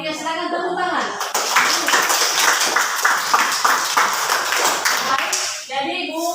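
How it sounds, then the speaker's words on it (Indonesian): A classroom group claps together in a dense burst of applause lasting a few seconds, with talk before and after it. "Yang mewakili, silakan tepuk tangan."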